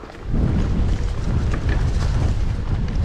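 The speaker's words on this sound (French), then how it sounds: "je ne sais pas si vous entendez avec le vent. Il y a un petit peu de vent là." Gusty wind buffets the microphone with a constant low rumble and roar throughout.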